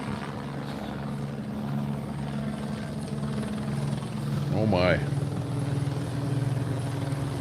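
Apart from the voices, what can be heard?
helicopter flying overhead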